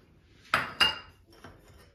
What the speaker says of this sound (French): Je vais rajouter mon beurre.